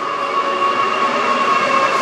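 A Class 66 diesel locomotive hauling a train past sidings near York, a loud, steady rumble with a constant engine tone and rolling wagon noise throughout, close by and unbroken.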